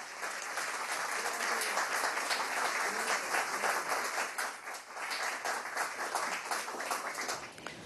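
Sustained applause from an audience following a speech by Venezuela's attorney general, dense and steady throughout with a brief dip midway, no voices over it.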